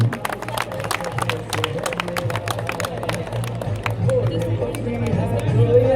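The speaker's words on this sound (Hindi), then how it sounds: "एक बार जोरदार तालियों से स्वागत करें" At an SSB camp Republic Day army parade, a crowd claps in scattered sharp bursts mixed with murmuring chatter and low background voices, the noise building toward the end.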